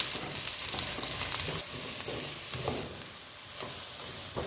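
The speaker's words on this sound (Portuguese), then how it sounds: "E vou estar refogando aqui, ó." Onion and sausage with green onion and chopped garlic sauté in a pan, giving a continuous close sizzle and crackle with occasional stirring scrapes and no talking.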